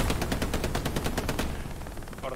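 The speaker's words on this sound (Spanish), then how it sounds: "Es el hijo de puta que me lleva matando todo el rato con la ametralladora" A machine gun rattles in the World War II shooter Hell Let Loose, firing a rapid, even burst of shots for about a second and a half, loud and near, then cuts off into quieter battlefield noise.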